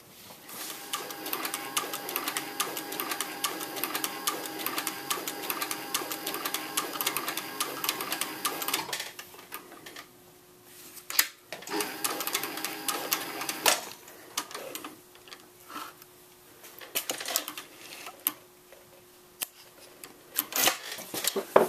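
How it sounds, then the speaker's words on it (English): A sewing machine stitches a leather belt cartridge holder. It gives a fast, steady mechanical whir and clatter for about nine seconds, then runs in shorter bursts with pauses between them, close and clear with no talking. "We'll take it back to the machine and we'll go ahead and stitch that now."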